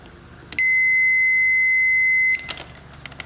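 A multimeter on its continuity setting gives a single steady electronic beep lasting nearly two seconds while testing the stator leads of a Can-Am Bombardier Outlander 400 ATV, with faint handling clicks before and after.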